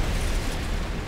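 A short, dense burst of low rumbling explosion noise from a Bearcat aircraft's rockets and guns strafing in War Thunder, loud and broadband throughout with no clear separate impacts.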